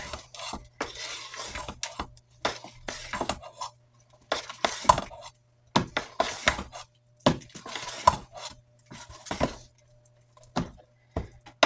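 Oatmeal being stirred into banana bread batter, a spoon repeatedly scraping and clinking against the mixing bowl in uneven bursts, close and fairly loud with no talking.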